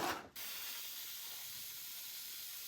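A steady, hissing spray from an upside-down spray paint can, clearing the tip, runs continuously after a brief opening burst, close and even, with no voices.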